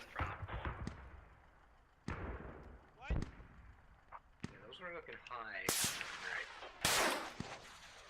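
Artillery and gunfire in the tactical shooter Squad: a series of sharp, loud blasts and cracks spread across the clip, some booming with long rumbling tails. Near and distant shots mix over a low battlefield background, with no talking.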